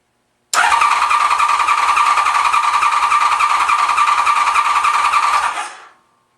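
A Honda VFR750 motorcycle engine cranking on the starter: a loud, close, evenly pulsing mechanical whir that runs about five seconds without catching, then winds down and stops, with no talking.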